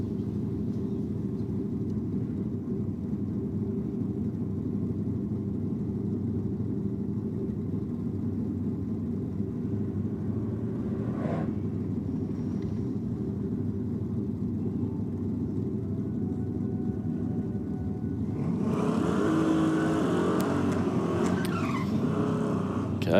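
Race cars, among them an unhealthy-sounding Ute, run laps on a clay track in a steady, continuous engine drone, with a louder rush of engine noise and tire squeal near the end.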